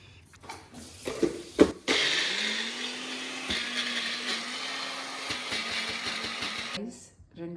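An electric blender mixing a lemon drink with ice, starting after a few clatters and running as a steady loud whir for about five seconds before cutting off, with people talking around it.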